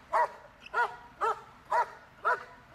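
A dog barks five times in an evenly spaced series, each bark clear and fairly close, with short quiet gaps between them.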